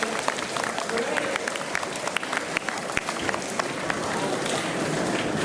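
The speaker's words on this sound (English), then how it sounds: "I want everyone to give all the participants a round of applause" A school assembly audience applauds the House Banner competition participants. Steady crowd clapping fills the whole stretch, with scattered sharp individual claps standing out.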